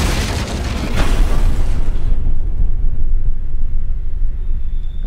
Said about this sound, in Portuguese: Acabaram de jogar o ventilador na minha direção.